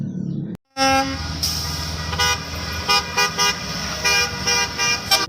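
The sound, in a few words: toy school bus horn honking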